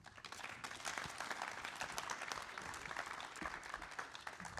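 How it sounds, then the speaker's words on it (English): An audience at a rail industry event applauds its presenters, with dense, steady clapping from a crowd sustained throughout at moderate distance. "round of applause, please, for our 4 presenters"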